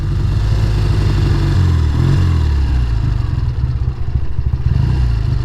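A 1969 Triumph T120R motorcycle engine idles close by with a steady, loping low rumble and a lumpy, uneven beat that stays loud throughout with no talking.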